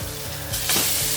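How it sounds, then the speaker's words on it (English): A steady, close sizzle of meat frying in a hot pan, swelling louder and hissier partway through, with no voices. "Just looking for that good sizzle."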